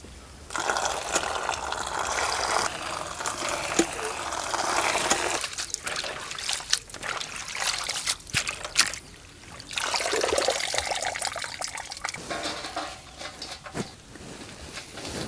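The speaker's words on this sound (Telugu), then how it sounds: "ఈ పుదీనా ఆకులన్నీ గిల్లుకొని 2 సార్లు శుభ్రంగా కడుక్కొని పక్కన పెట్టుకుందాం." Mint leaves are washed twice in water by hand, giving close sloshing, trickling and pouring sounds in uneven bursts with short quieter gaps, and no speech.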